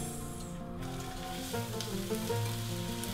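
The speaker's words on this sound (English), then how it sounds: "I'm going to start off with some sauteed onions" Onions sizzling and frying in a pan as the base for a bean and pasta casserole, a steady, close crackle with a brief stir partway through.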